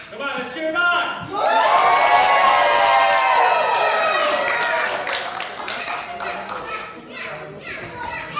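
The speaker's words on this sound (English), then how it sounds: "Come on, let's cheer him on." An excited crowd at a live armored combat demonstration cheers, shouts and claps for a fighter. Many children's voices rise into sustained loud yelling that trails off into scattered calls.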